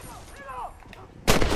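A single loud gunshot blast from a revolver or rifle in the Red Dead Redemption cowboy game, bursting in suddenly near the end after a stretch of quiet game ambience with a faint whistling sweep.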